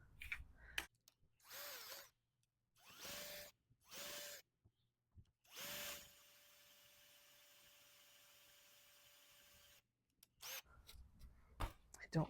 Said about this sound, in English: So now I'm going to drill a hole.